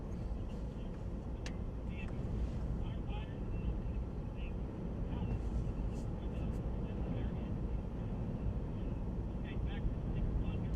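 A firefighting airplane drones steadily in the distance while dropping retardant over a wildfire in the Oklahoma Panhandle, a continuous low engine rumble under outdoor wind noise, with occasional voices in the background.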